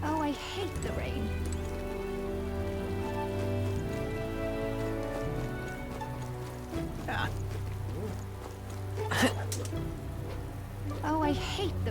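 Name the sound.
rain falling in the video game Metaphor: ReFantazio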